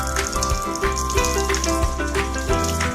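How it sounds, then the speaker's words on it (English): Water runs from a tap into a sink for handwashing, a steady hiss and splash that stays loud and close throughout, mixed with tonal background music. "Then turn the water on"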